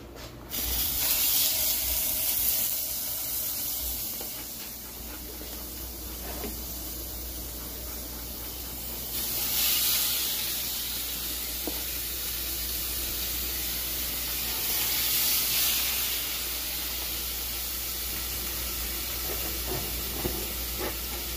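Meat searing in a hot pan, with a steady hissing sizzle throughout and a couple of louder steam surges partway through, close and fairly loud with no talking.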